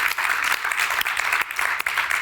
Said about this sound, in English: A huge clap.